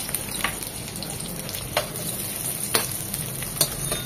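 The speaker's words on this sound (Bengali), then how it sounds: "আরো 1/2 চামচ ঘি দিয়ে দিলাম। এখন দিয়ে দেবো সে পেঁয়াজটা।" Onion going into hot ghee in a pan with dried red chillies and bay leaves, a steady close sizzle with a few sharper crackling spikes as it is stirred.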